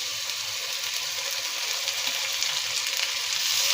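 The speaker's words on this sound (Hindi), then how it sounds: "2 से 3 मिनट तक मैंने इसको अच्छे से ऑयल में भून लिया है" Ginger-garlic paste frying in oil over browned onions for chicken biryani gives a steady, close, even sizzle and hiss with no voices.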